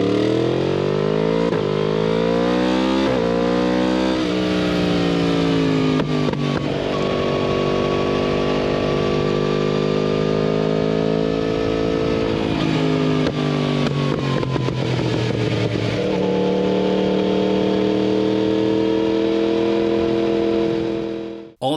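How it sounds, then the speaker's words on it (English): A 2025 Yamaha MT-10 SP with a cross-plane crank engine revs loudly and close, its deep growl rising and falling through several throttle blips into a sustained howl, with no talk over it. "that cross-plane crank sound, it's addictive. A deep, guttural growl that turns into a thrilling howl as you open up the throttle"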